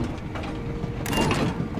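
A train slowing to a halt in the video game Voidtrain, heard as a steady mechanical rumble with a brief brighter metallic screech partway through, fairly close and continuous.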